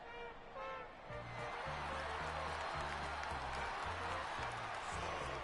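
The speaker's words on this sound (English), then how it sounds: "North Melbourne lifted by the noise of the crowd as they make their way onto the ground." Steady stadium crowd roar and cheering at an AFL match in the AFL Evolution video game, as North Melbourne take the ground against Sydney, loud and continuous, with a rhythmic low musical pulse underneath.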